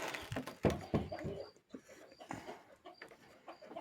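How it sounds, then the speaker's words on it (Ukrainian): Hens clucking in a coop at a summer country house, faint scattered clucks and short calls with occasional knocks and rustling, quiet and close. "Тут курочки."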